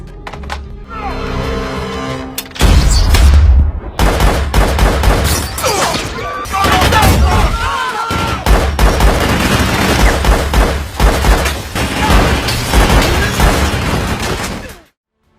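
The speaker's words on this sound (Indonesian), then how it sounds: "salah satu polisi yang datang ke lokasi tersebut menembak Jason yang membuatnya tewas seketika." Film scene of a police shooting: loud bursts of repeated gunfire and heavy impacts fill the scene, with a brief shout and dramatic sound effects mixed in, cutting off abruptly at the end.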